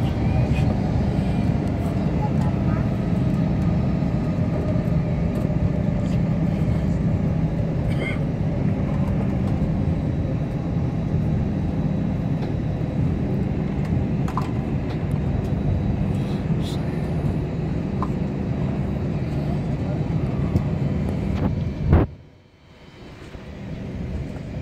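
An airliner takes off at São Paulo Guarulhos International Airport, its engines a loud, steady roar heard from inside the cabin for a long stretch, ending in a sudden bump and a drop in noise.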